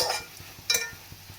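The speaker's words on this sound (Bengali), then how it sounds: "এটাকে ভালো করে কষাবো।" Matar paneer with paneer, Kashmiri chili powder and kasuri methi being sautéed and stirred in a pan: two metallic clinks and scrapes of the utensil against the pan over a soft, rhythmic frying patter, close and quiet.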